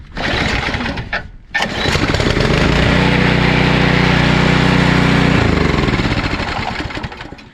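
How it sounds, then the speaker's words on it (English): A PowerSmart gas snowblower, a 212cc or 250cc model, is pull-started: a quick yank, a brief stall, then the engine catches and roars loudly and steadily up close for several seconds before starting to wind down. "2 quick pulls and it fired right up"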